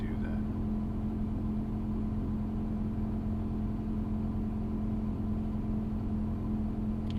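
A steady droning Ford pickup truck engine hum with a sustained tonal whine of harmonics layered over it, continuous and even, heard from inside while driving.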